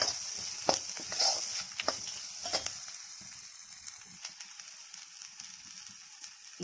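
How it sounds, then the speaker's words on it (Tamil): Drumstick leaves sautéed with asafoetida in a pan give a soft, steady sizzle with a few louder stirring scrapes early on, then a quieter frying hiss that continues alone without talk. "இதை கொஞ்சம் நல்லா வதக்கி விட்டுட்டு"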